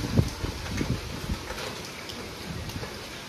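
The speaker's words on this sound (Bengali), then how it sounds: "সেই কালকের থেকে চলছে বৃষ্টি সঙ্গে ঝোড়ো হাওয়া।" Steady rain with gusty stormy wind, a faint even hiss dotted with a few soft drops and bumps, no voices.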